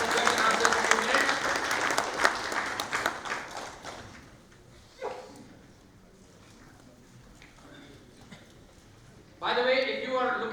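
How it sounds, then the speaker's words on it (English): An audience at a sales summit claps, starting loud, then thinning to scattered claps, then a short burst of applause again near the end, with a speaker's voice heard between. "Give yourself a round of applause and thank you so much."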